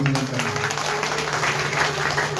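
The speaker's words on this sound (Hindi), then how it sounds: "मैं चाहूंगा जोरदार तालियों से इनसे अभिनंदन करें।" Loud, dense applause from the audience at a Bhagavata Katha religious gathering at the Kali Nath Mahadev temple, with a steady tonal hum from the sound system running beneath the clapping.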